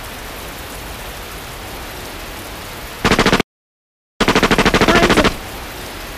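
Rapid automatic gunfire bursts from a Grisaia video game, loud dense rattling volleys in two runs split by a brief silence, over a steady rain-like hiss.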